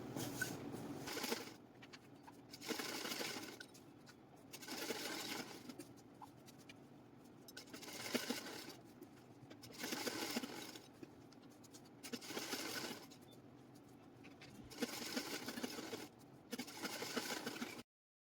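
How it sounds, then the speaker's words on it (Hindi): A sewing machine stitching the side seam of a loose-fitting ladies' pant with pockets, running in repeated bursts of about two seconds separated by short pauses, close and steady throughout. "तो मैं किनारे की सिलाई लगा रही हूँ।"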